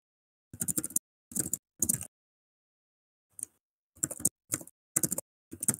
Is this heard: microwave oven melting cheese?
no